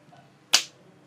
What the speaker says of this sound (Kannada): ಈಗ ಇನ್ನೊಂದು ಕೈಯಲ್ಲಿ ಒಂದು ಚಿಟಿಕೆ ಹೊಡಿರಿ